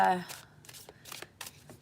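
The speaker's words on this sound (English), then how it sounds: "it hurts to shuffle the cards" A deck of cards is shuffled up close in quick riffling bursts, several short rustling flurries after a person speaks briefly at the start.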